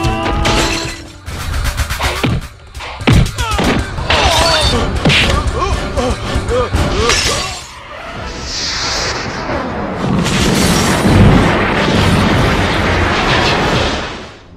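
An explosion scene from the Hindi war film Major Saab brings loud, dense bursts of blasts, shattering and crashing debris in rapid succession, with a continuous roar that hardly lets up.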